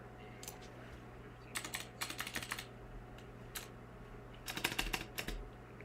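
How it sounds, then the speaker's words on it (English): Bursts of computer keyboard typing as a lobby code is entered, clusters of quick clicky keystrokes separated by short pauses over a steady low hum, fairly close and moderate in level. "I'll type that right here"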